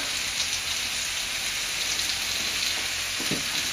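Glazed pork chops sizzle in a hot pan with a dense, steady crackling hiss, close and constant throughout, with faint clinks of utensils near the end and no talking.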